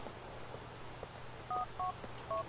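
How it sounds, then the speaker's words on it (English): Three short, clear phone-dialing beeps in GTA The Ballad of Gay Tony sound over a quiet game background, evenly spaced near the end. "a few more phone calls that you can actually have right now. Let's call, Luis's mom."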